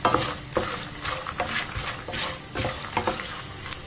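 Peanuts, chana dal and urad dal frying in hot oil for mango pulihora, a steady close sizzle broken by repeated scraping stirs of a spoon against the pan, with no talking.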